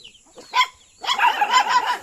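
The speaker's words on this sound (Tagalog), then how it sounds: "Teka, ang ingay ng aso." Guard dogs barking outdoors in the Philippines, one short bark burst followed by a longer run of overlapping barks and yips, fairly close and loud.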